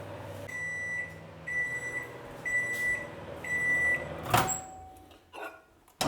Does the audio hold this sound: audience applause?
no